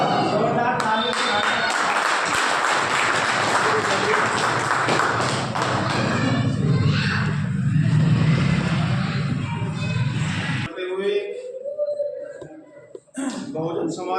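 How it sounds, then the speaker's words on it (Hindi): Dense applause from a large crowd at a Bahujan Samaj Party political rally in Ghaziabad fills most of the stretch, loud and sustained, then cuts off abruptly near the end as the space falls quieter. "जोरदार तालियों से"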